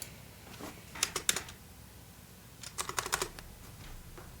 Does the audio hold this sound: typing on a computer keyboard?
yes